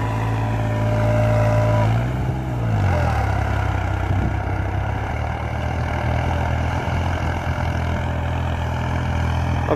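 Tractor engine under test after a horsepower modification, running steadily near the microphone as a continuous low rumble, with a slight pitch shift early on and no talk.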